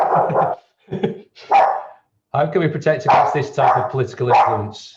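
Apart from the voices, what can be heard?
dog barking in the speaker's home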